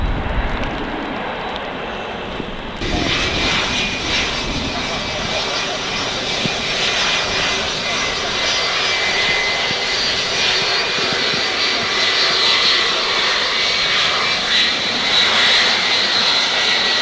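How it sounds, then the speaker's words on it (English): A jet airplane lands at Manchester Airport, its engines roaring loudly and steadily with a rising whine as it passes close, continuous for the whole stretch. "So this jet is coming in from Northolt."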